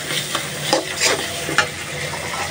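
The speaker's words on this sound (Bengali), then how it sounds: "মশলাটা ভালোভাবে কষায় নিছি, হলুদ মরিচ ধনিয়ার গুঁড়া" A spice masala of turmeric, chili and coriander powder sizzles in oil as it is stirred. A brief, close hiss is broken by a few light spoon taps and scrapes.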